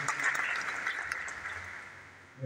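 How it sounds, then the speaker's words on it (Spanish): A church congregation at a eucharistic congress gives faint, distant applause, a soft steady patter that tapers off toward the end. "Un fuerte aplauso."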